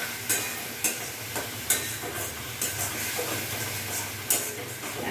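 Spices with Kashmiri chilli powder and chopped tomato being stirred and fried for a mustard-poppy rohu fish curry, a steady low sizzle broken by several sharp scraping clinks of the spatula against the pan.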